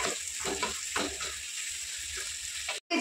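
Green chilies and grated raw mango fry and sizzle steadily in a pan with some stirring, close and continuous, with a brief drop to silence near the end; mango pulihora being cooked.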